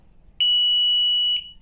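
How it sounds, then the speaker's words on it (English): A wheelchair lift on a Penske vehicle gives a loud, steady, high-pitched warning beep about one second long, triggered when someone stands on the safety mat, sounding alone against quiet background. "you will get that sound and a loud beep and a really bright red light"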